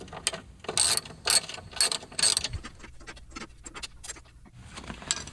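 A hand ratchet clicks in quick bursts, loosening a bolt beneath the driver's seat of a Ford Transit cargo van, crisp close ticking with short pauses between strokes.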